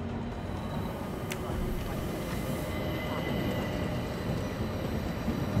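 Rumbling interior rolling noise of the famous luxury locomotive train in an Agatha Christie Orient Express game, a steady low rumble throughout with faint higher hiss and clanks.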